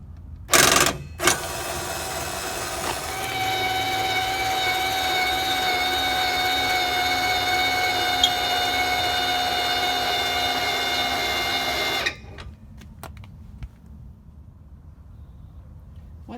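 An electric jack stand on an Airstream trailer hitch whines steadily for about nine seconds as it lowers the trailer onto levelers, with a couple of brief clunks before it starts and scattered clicks after it stops.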